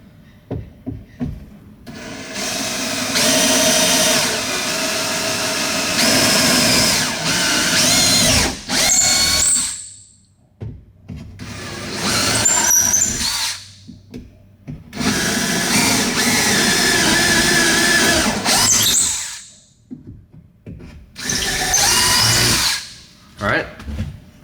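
A power drill bores a pilot hole for a Scotty downrigger mount in four loud bursts of whirring, separated by short pauses, with the motor revving up and winding down around each run.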